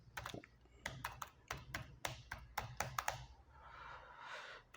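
Quick bursts of keystrokes on a computer keyboard as an email address is typed, close and crisp with irregular rhythm and short pauses, with no talk.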